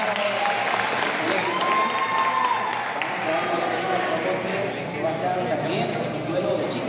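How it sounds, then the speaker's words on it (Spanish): Applause from the audience at the Copa Kai 2022 robot competition, a steady broadband patter that runs through the whole stretch while an announcer keeps talking over it. "Un fuerte aplauso para ella."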